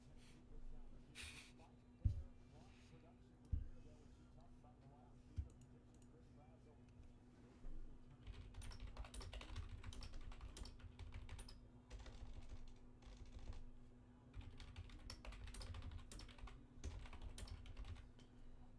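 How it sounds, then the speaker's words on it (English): Rapid computer keyboard typing clatters in bursts of clicky keystrokes, close and fairly quiet, under a steady low hum with a few louder knocks and occasional talk in the background. "Don't y'all love that typing sound?"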